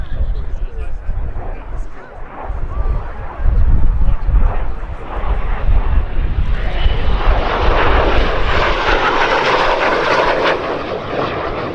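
De Havilland Vampire and MiG 15 jets perform at the Duxford summer air show. A loud, broad jet roar swells and grows brighter toward the end, with a person talking over it.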